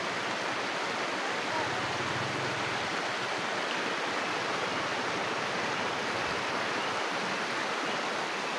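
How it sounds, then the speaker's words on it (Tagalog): A mountain river in Bataan rushes with a dense, constant roar, close and loud, with faint voices briefly under the water noise. "nakakita kami ng ilog kaya ayan na, napakagandang view dito"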